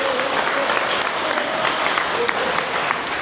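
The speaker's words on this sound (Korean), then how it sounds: "여러분 박수 한번 쳐주세요" Audience applause at a lecture hall event, dense and sustained steady clapping from a large crowd throughout, with no breaks.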